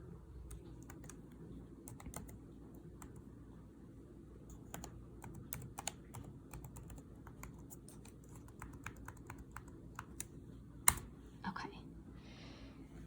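Quiet keystrokes on a computer keyboard as a password is typed, a loose run of light clicks over a steady low hum, with a sharper click near the end.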